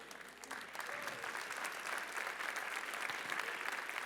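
A church congregation applauds for Jesus, a dense, sustained wash of many hands clapping that swells slightly and stays loud and steady throughout.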